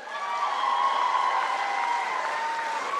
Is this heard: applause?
yes